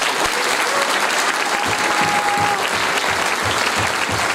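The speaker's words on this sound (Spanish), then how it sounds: "les pido para ellos un fortísimo aplauso" Loud, sustained audience applause at a political presentation of pre-candidates in Pellegrini, dense clapping filling the whole stretch with a faint crowd murmur underneath.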